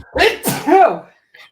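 A single close, loud sneeze bursts out in a sharp sequence, followed by a brief faint sound after a moment of quiet.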